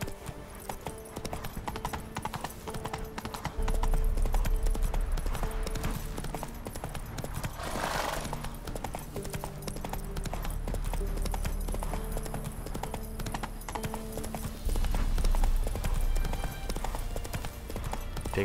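Roach the horse gallops steadily in The Witcher 3, rapid hoofbeats drumming close and loud over a layer of game music, with no voices breaking in.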